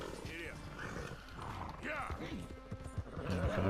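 Horse hooves clip-clop at a gallop in Red Dead Redemption 2, with a neigh and whinny breaking through, all running under someone talking over the game audio.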